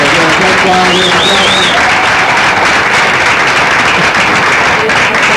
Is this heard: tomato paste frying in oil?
no